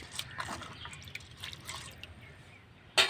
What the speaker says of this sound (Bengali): মুসুরির ডাল ধুয়ে নিয়েছি, এবার দিয়ে দেবো।